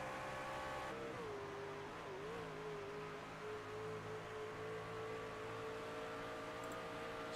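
A race car at Nashville Superspeedway in the iRacing sim, engine droning steadily with one clear gear shift near the start, then holding a sustained whine, loud and continuous, no talk.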